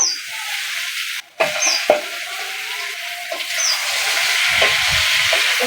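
Potatoes frying in a pan for a vegetarian pumpkin chokka give off a steady sizzling hiss that holds throughout, broken by a brief clatter and a few faint high chirps in the background.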